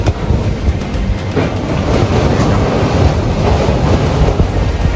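Strong Typhoon Uwan wind roars around a hut during a power outage, a loud, unbroken broadband rush with no lulls and no voices.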